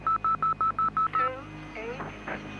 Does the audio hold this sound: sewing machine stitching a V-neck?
no